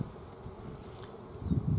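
Honeybees buzz around an open beehive with frames lifted out on a warm day, giving a steady, fairly soft droning hum that swells slightly near the end.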